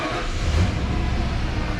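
A Ford OBS F150 pickup, running again after a busted ignition switch kept it from starting, gives a steady, close, loud engine rumble with no pauses for about two seconds.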